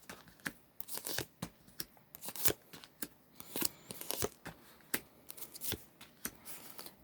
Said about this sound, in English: I'm just going to cut the deck and start laying down the cards